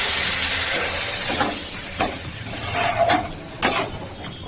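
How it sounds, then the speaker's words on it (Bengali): Hot water poured into sizzling spiced chili masala with Kashmiri chili in a pan: a loud hissing burst that settles into softer sizzling, with intermittent stirring scrapes and bubbling. "এবারে গরম জল দিয়ে দেবো"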